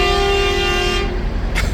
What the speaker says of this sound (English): He's been honking instead of walking up.